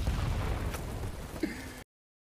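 Claymore explosions go off in a first-person shooter on a night map, giving a dense, rumbling blast that fills under two seconds, with a sharper pop near the end before cutting out.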